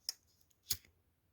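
Small scissors snip thread while making pearl earrings, two sharp close cuts with a short pause between them in an otherwise quiet room.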